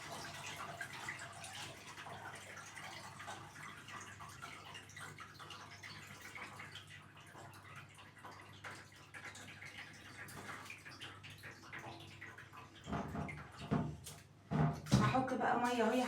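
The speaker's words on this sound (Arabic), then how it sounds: "هحط بقى ميه اهو يا حبايب قلبي" Water runs and splashes steadily into a bowl of soaking rice, with a louder burst of pouring and clattering near the end.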